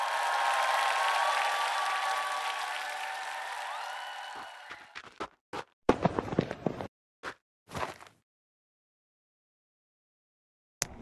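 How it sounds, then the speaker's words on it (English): Cricket stadium crowd at a Pakistan versus Bangladesh Test match applauding and cheering a diving catch, a broad sustained roar for about four seconds that breaks into scattered bursts of clapping and then falls silent. "and the crowd loves it"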